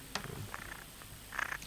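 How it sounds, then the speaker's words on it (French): A domestic cat purrs softly in a brief, low rumble, with a few faint rustles and a louder thump right at the end. "encore entendre ma chatte ronronner, non?"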